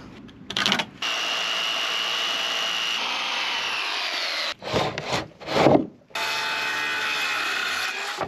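A hand saw cuts through wood in long, steady strokes, loud and close, with a brief pause and a few short choppy strokes before the sawing resumes, with no talking.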